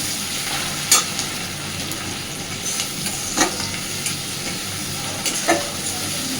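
Onions fry lightly in oil for an egg posto dish, giving a constant close sizzle broken by several sharp clacks and scrapes of a spatula stirring the pan.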